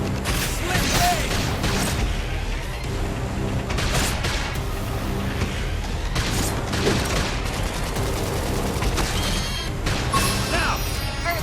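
Loud bursts of gunfire and crashing impacts in Xenoblade Chronicles X, dense and continuous, mixed with clanking effects and shouted voices.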